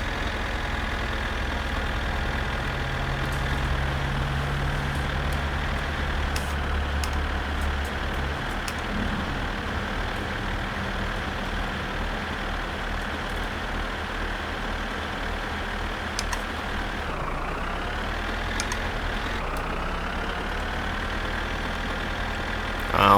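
A car engine runs steadily in My Summer Car, with a low drone that shifts pitch when gears change, including a sweep of revs near the end.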